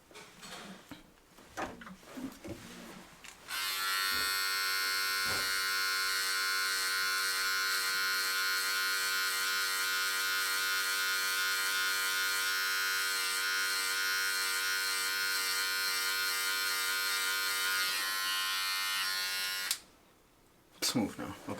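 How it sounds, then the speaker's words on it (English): Electric hair clippers shaving during a self-cut burst fade: a loud, steady high buzzing runs for about sixteen seconds, with short handling noises and brief talk before it and a quick stop near the end. "Now we can shave all this off."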